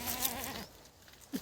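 A goat or sheep in a farm field among a grazing herd gives one clear, quavering bleat that fades after about half a second. A short, faint animal call follows near the end over a quiet outdoor background.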